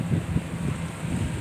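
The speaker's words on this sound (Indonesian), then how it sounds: "naik perahu atau kapal boat, guys" A boat ride on calm water at Pangandaran's east beach, a steady low rumble of wind and water buffeting the microphone, close and continuous.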